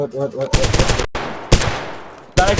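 Gunfire in the video game Zero Hour comes as loud close bursts of automatic fire separated by short pauses, with a brief voice at the start.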